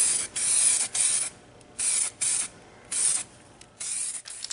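A DuraCoat aerosol can sprays a coating onto a gun in five short, close hissing bursts separated by brief silent gaps, with no talking.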